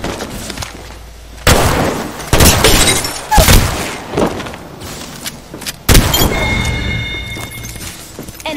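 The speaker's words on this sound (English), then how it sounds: "I'm getting shot at." Gunfire strikes the player in a PC shooter game: loud, sharp cracking bursts and shattering impacts come in irregular clusters over a steady background rumble, with a longer run of hits near the end.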